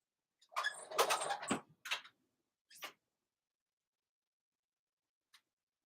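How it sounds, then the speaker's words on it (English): A door being closed indoors, heard as a cluster of close scraping, sliding and knocking sounds followed by a couple of brief clicks, then quiet. "I'm going to close the door."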